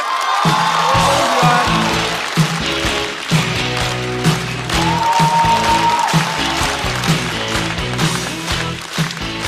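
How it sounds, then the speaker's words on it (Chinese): Audience clapping and cheering over loud stage music at a stand-up comedy show, with a few whoops rising from the crowd. "掌声有请侯志远。"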